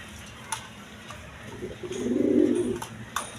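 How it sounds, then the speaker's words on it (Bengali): A pair of Lahori pigeons gives one soft, low, rolling coo that swells near the middle of the moment and fades, close by against a quiet background. "এখানে এক পেয়ার কবুতর আছে দেখেন লাহরি কবুতর"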